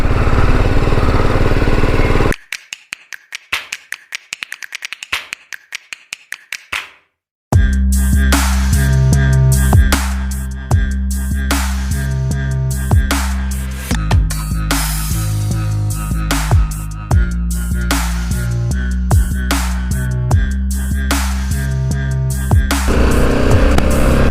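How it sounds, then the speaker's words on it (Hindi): Continuous motorcycle engine while riding, loud and close, with rhythmic revving pulses and a brief quieter, choppy stretch before the steady roar resumes. "बाइक चल रही है"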